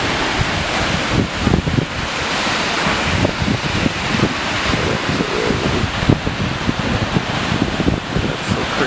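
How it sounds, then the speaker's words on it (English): Multnomah Falls waterfall in Oregon, a broad, continuous roar of falling water heard close and loud, mixed with gusty wind buffeting the microphone. "Alright, so we made it to Multnomah Falls."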